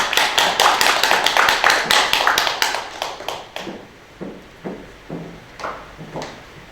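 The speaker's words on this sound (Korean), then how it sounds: "큰 박수로 모시겠습니다" A small audience at a school admissions strategy seminar claps in a quick, even rhythm for a few seconds, then the clapping breaks apart into scattered, sparse single claps before fading.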